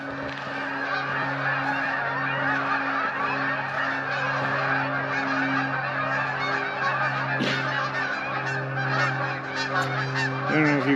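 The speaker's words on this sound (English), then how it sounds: "So it sounds like a flock of geese like crazy." A large flock of geese honking constantly, a dense chorus of overlapping calls with a steady low hum beneath.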